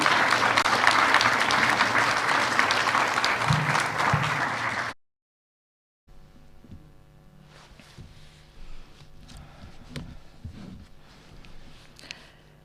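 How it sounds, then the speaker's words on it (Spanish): A church seminar congregation breaks into loud, sustained applause to welcome Pastor Pablo Shin. The clapping cuts off abruptly into silence, followed by quieter room noise with scattered soft clatters. "Con fuertes aplausos vamos a recibir al Pastor Pablo Chin"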